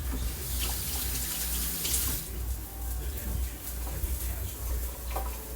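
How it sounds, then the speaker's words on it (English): Water runs steadily from a tap, splashing into a pot for Spanish rice, a constant close rushing sound with faint small clinks. "I'm gonna add the water"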